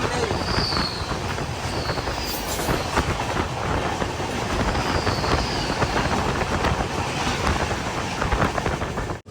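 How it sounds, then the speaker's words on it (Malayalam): Venad Express rumbles steadily into Changanassery station, with a continuous clattering roar of the carriages and occasional higher squeals, loud and close from on board. "ചങ്ങനാശ്ശേരി റെയിൽവേ സ്റ്റേഷനിലേക്ക് നമ്മുടെ ട്രെയിൻ എത്തിക്കൊണ്ടിരിക്കുക"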